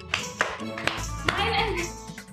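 Sharp hand claps in a Marathi TV serial dance step, four distinct claps at a steady beat, close and loud, with voices and background music underneath.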